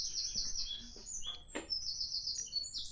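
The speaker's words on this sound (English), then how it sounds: "the camera's picking up the bird song or not." Several small birds chirp and trill outdoors at a plant nursery, high-pitched calls overlapping at a moderate distance, with quiet background ambience and no talking.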